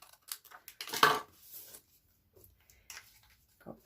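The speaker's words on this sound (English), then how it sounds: "so I'll just trim off that piece there." Scissors trimming a handmade greeting card, a few close, quiet snips and rustles with one sharper cut near the start, then faint paper handling.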